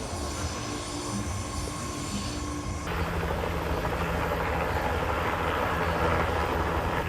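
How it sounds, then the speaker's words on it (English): A helicopter flies over Bali near a construction area, a broad steady roar with a low rotor rumble that swells louder partway through and stays strong to the end. "Someone's legit getting picked up with a helicopter on their wedding."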